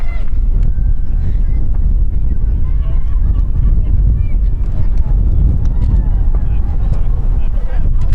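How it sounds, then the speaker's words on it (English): Wind buffets the microphone at an outdoor girls' youth ultimate frisbee championship game, a loud continuous low rumble with faint voices underneath. "The wind's picking up again."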